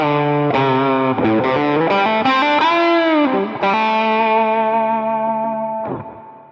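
Sustained distorted guitar notes through a bright plate reverb with pre-delay ring out with a spacious reverb tail, the chords shifting a few times before fading.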